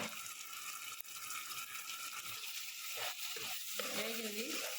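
Onion paste with garam masala, cumin and coriander powder frying in a pan for potato curry, giving a faint steady sizzle; a voice murmurs briefly near the end.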